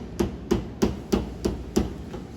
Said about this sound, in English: So, I didn't bring the little hammer, so we'll use the big hammer.